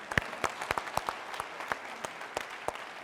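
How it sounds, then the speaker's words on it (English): A convocation audience gives a sparse, fairly quiet round of applause, with scattered individual claps heard distinctly from a distance. "give them a round of applause"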